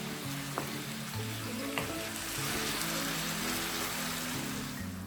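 Chicken pieces fry over high to medium flame, giving a steady, moderately loud sizzle with occasional clinks and scrapes as they are stirred in the pan.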